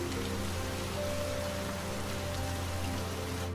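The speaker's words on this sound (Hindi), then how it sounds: "ये इतनी ठंड में अचानक बारिश कैसे होने लगी?" Rain falls on a cold night as a cartoon sound effect, a dense, steady hiss of drops that stays even and unbroken throughout.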